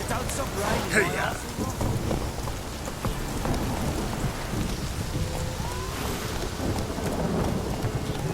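Steady rain hisses and patters with a low roll of thunder in The Witcher 3: Wild Hunt, and a voice speaks briefly over the storm.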